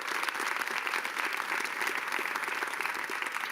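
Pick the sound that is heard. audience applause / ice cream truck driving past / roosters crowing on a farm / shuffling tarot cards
audience applause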